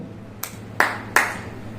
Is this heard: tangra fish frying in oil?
no